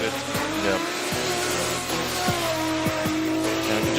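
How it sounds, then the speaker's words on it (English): A Toyota 2JZ-engined drift car runs at full throttle during a Formula Drift 2023 night event, its engine roaring loud and sustained with repeated sharp shifts and tire squeal. "you can just hear that 2JZ under the hood, just giving it all"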